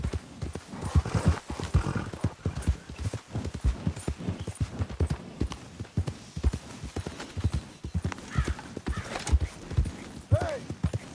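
Hooves clip-clop rapidly as a horse gallops in Red Dead Redemption 2, a steady close rhythm with a brief whinny near the end and a voice speaking over it.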